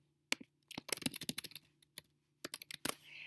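Close, quiet typing on a computer keyboard, two quick bursts of key clicks separated by a short pause, in a silent room with no talking.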